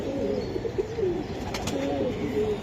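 Silver Giribaz pigeons coo repeatedly in soft, rolling low phrases close by, a steady stream of gentle calls with light rustling behind them.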